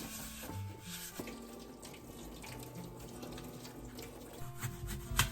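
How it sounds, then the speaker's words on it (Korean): An apple coated in baking powder is rubbed and rinsed under a running kitchen tap: a steady, fairly quiet stream of water with soft rubbing and splashing, louder splashes near the end. "사과는 물기를 묻히고 베이킹 파우더를 뿌려 문지르고 씻어낸다."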